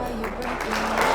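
Wedding guests from the bride's side clapping at a celebration, a short burst of dense applause under a loud voice and music, close and steady.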